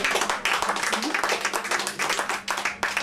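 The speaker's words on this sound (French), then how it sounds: "Alors on va l'applaudir très fort." An audience applauds a singer at a small French event, with close, lively clapping from a modest group that continues for about three seconds, and some voices mixed in.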